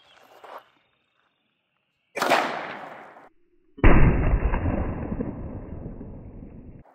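.357 Magnum revolver fired at a bottle target on a table at an outdoor range: a sharp, loud blast with a long decaying rumble, following an earlier report that cuts off abruptly.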